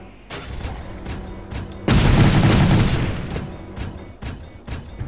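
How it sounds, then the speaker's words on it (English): A loud warning shot booms out in the War Robots video game, one heavy blast rising over steady mechanical battle noise, followed by scattered smaller impacts and rumbling. "The warning shot."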